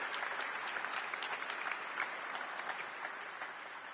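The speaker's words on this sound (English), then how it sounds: "So please give them all a round of applause." An audience at a welcoming ceremony gives a round of applause: fairly soft, slightly distant clapping with individual claps audible, keeping an even level and fading a little toward the end.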